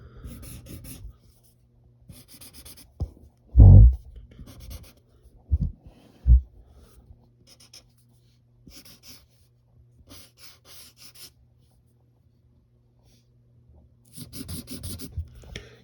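Marker or pencil strokes on paper while drawing a comic superhero figure: quiet scratchy scribbles in bursts, with a few sharper louder rubs and taps, close and alone.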